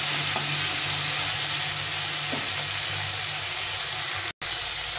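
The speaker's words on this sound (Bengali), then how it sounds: "এই চিংড়ি মাছ এটা ভাজলে খেতে ভালো লাগে না, এটা কিন্তু হালকা একটু ভেজে নেব" Wet shrimp frying briefly in hot oil for a potol curry, giving a continuous even sizzle and hiss at close range with occasional stirring clicks, broken by a short dropout near the end.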